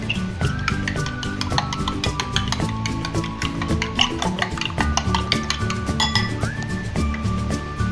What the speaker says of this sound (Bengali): ডিমটাকে ভালো করে ফেটিয়ে নিতে হবে।